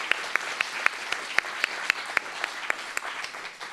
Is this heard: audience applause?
yes